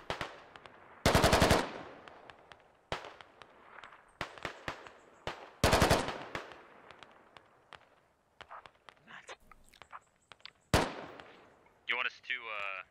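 Gunfire in the tactical shooter game Squad, with loud bursts of automatic rifle fire and scattered single shots spread across the clip, separated by quieter gaps, with a voice talking intermittently.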